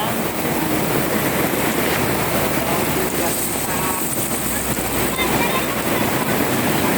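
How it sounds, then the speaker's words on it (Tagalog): Heavy rain pouring down at the seaside in Infanta, a dense steady hiss that fills the whole clip at an even loudness, with no pauses or breaks. "Ang lakas ng ulan."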